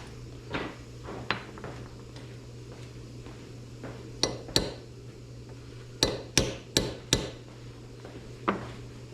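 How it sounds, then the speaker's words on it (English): A hammer gently taps a punch against a Sauer Danfoss 45 series pump, giving sharp metallic knocks in irregular bursts, some single and some in quick runs of three or four, close by and alone. "Again, just nice gentle taps, nothing crazy. Yeah, I don't really have a right punch for this."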